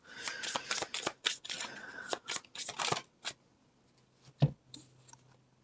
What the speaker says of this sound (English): That's just me not shuffling well.